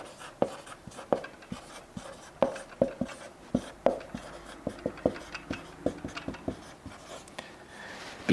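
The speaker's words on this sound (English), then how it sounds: "I just want to write that down real quick" Pen writing notes by hand on paper, close and quiet, with a run of short scratchy strokes and taps at an uneven pace, no talking.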